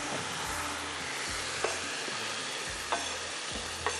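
Ginger-garlic masala sizzles steadily with browned onions in a pan, a dense continuous frying hiss broken by a few soft stirring scrapes.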